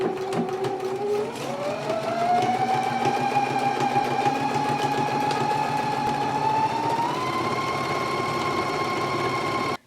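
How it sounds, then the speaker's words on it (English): A sewing machine runs steadily for nearly ten seconds, stitching a jacket sleeve seam at a 5/8 inch allowance, its motor whine rising in pitch early on and holding an even, close, continuous hum alone without talk. "we're going to go to the machine and we're going to stitch it at a 5/8 of an inch seam allowance"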